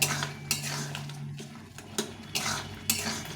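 A utensil stirs tomato pickle in a pan, with repeated scraping and clinking strokes against the metal at a loose, uneven rhythm, close and fairly soft.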